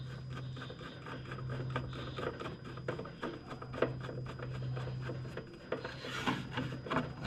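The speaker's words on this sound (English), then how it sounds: "we're going to start one of these screws back" A screw is worked back into the metal housing of a Pit Boss PB-39P350 pellet smoker, giving a continuous close scraping and rubbing with small clicks over a low steady hum.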